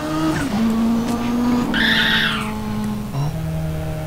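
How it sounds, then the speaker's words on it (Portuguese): Loud tire squeal and engine drone from a car in the video game GTA, a steady skid of about two seconds with a brighter screech midway, then the motor settling back into a lower hum. "Você pode andar com o carro até assim, se você conseguir"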